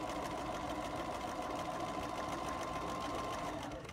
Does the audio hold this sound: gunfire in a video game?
no